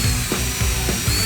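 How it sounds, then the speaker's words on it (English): A toffee wheel spun by a drill strips leftover adhesive tape from a Ford Fusion's bodywork, giving a steady, close, loud grinding whir with rhythmic surges as the wheel bites into the tape. "go around the car with this tool called a toffee wheel, which attaches onto the end of a drill"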